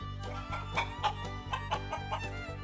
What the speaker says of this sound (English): I pulled on a string around the chicken's legs and made them flap and scream.